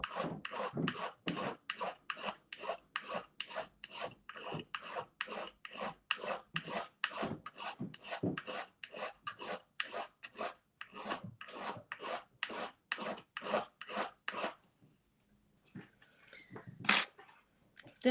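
A metal wishbone ring is filed by hand in a fast, even run of about thirty rasping strokes, close and crisp, before the rhythm breaks off into a few quieter scrapes and a sharp knock near the end.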